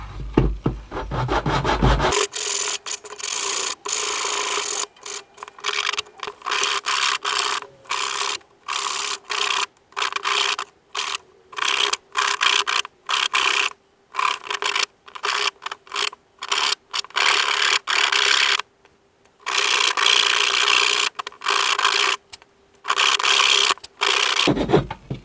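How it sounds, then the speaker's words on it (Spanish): Rapid back-and-forth rasping of sandpaper on wood, cutting a recess in a door stop, repeated in quick bursts with brief pauses, loud and close, no talking. "Con la propia lija le estoy haciendo aquí, se ve perfectamente, un rebaje"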